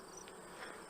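Honey bees worked by a beekeeper give off a faint, steady, even buzz that goes on without a break for under a second.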